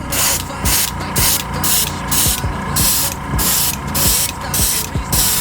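Airbrush spraying paint over a vinyl stencil on a third coat, an airbrush not fully cleaned, giving repeated loud hissing bursts in an on-off rhythm with brief pauses between passes, close to the mic.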